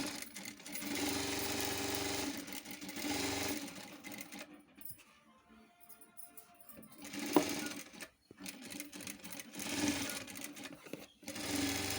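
Sewing machine stitching two shape belts together for a blouse in one continuous pass, a steady motor whir broken by a short pause midway, then resuming close and alone.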